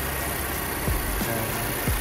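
A Mercedes-Benz GLB200 AMG Line's 1.4-liter turbocharged engine idles close by, a steady, even hum with a few soft low thumps and no talking.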